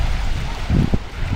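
Waves wash onto a beach in a steady, broad roar with wind buffeting the microphone and a few low surges, loud and close, with no voices.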